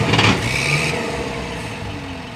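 A 70 horsepower N740 tractor engine runs steadily nearby with a loud, continuous rumbling drone and a slight swell at the start.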